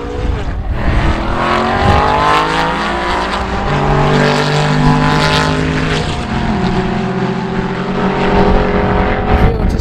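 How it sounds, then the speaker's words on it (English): An Aston Martin V8 racing engine revs hard at Oulton Park circuit during British GT testing, a loud, close, continuous roar with rising and falling pitch as the car accelerates and shifts gears. "If you want to see more noises like this Aston Martin V8"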